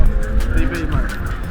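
A car drifts at Santa Pod during a Drive When You're Bored event, its tires giving a brief, loud squealing whine beside a close engine, with people talking over it.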